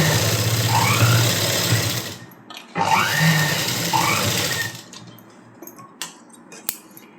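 An electric sewing machine running a basting stitch through blouse lining fabric, two steady bursts of fast mechanical whirring separated by a short pause, followed by faint handling clicks.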